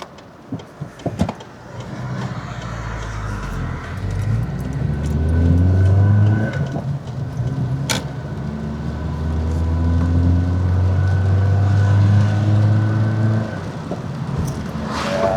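A Fiat car engine with a loose exhaust runs close by with a rough, rumbling exhaust note, rising and falling as it revs, plus a sharp clunk partway through.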